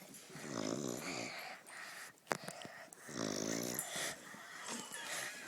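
A sleeping dog snores in two slow, rumbling breaths, close and fairly quiet, with faint snuffles and small noises between them.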